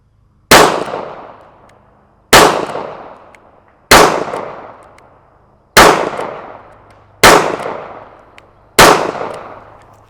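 Six loud gunshots from a Taurus 856 Ultra-Lite revolver fired at about 7 yards, evenly spaced roughly a second and a half apart, each sharp crack trailing off in a short echo.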